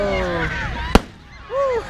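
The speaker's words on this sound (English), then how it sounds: "And then we're gonna watch the fireworks with the sand couch." A single sharp firework bang goes off at a beach, short and fairly loud, with people talking before and after it.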